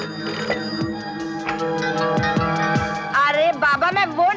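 A telephone rings in a hotel room with a steady electronic ringtone pattern, loud and close, and voices talk over it near the end.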